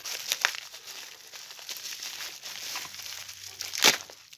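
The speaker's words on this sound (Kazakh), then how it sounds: "Ары қарай пакетті ашамыз." A plastic package from an AliExpress parcel holding an elastrator tool is opened, giving crisp crinkling and crackling throughout with a sharper tearing rustle near the end, close and fairly quiet.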